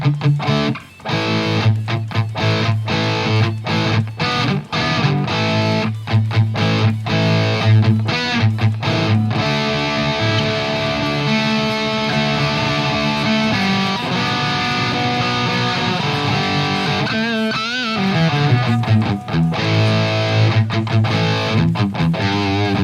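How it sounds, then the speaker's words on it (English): Distorted electric guitar through a Peavey JSX amp's crunch channel plays chugging chords and riffs, loud and gritty, with a few sliding bends near the end. "Yeah, you can definitely get some crunch tones"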